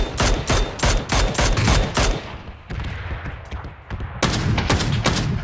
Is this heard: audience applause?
no